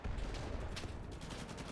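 Artillery fire in the World War II shooter Enlisted sounds as a distant, continuous low rumble of blasts blended with crackling gunfire, all faint and muffled throughout.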